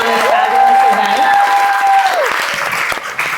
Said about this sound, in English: can we just give another round of applause to TH and to Kelly for putting on this fabul